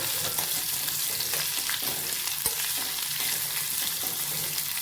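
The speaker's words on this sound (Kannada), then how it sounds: "ಚೆನ್ನಾಗಿ ಫ್ರೈ ಆಗಬೇಕಿದೆ" Mushrooms frying in a pan, a close, steady sizzle with faint crackles and occasional stirring clicks throughout, no voices.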